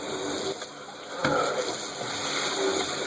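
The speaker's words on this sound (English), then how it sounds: "we got the drain open, we're running the water" Steady running water pouring into an unclogged bathtub drain, a continuous even rush and hiss with one brief splash, close and fairly loud, no talking.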